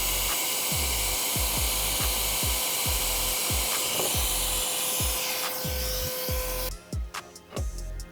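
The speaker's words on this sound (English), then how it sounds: "I'm going to lightly drill this out." A drill bores out rivet holes on a Porsche Cayman GT4 body panel in repeated short, loud bursts, each spinning up and cutting off, about a dozen in a steady rhythm close by, with no talking.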